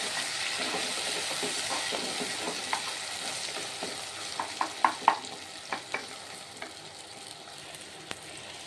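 Tomatoes sautéing in a pan for pachai mochai kulambu, a steady soft sizzle with a run of sharp scraping clinks from a spoon stirring, moderately close and free of talk.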